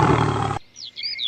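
A cartoon lion lets out a loud, dense roar in a folktale scene, then cuts off abruptly and gives way to thin, high chirping tones.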